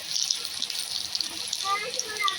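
Garlic cloves and red chillies sizzle in hot oil for a tadka for khichdi, a close, steady hissing crackle with bright spatters throughout.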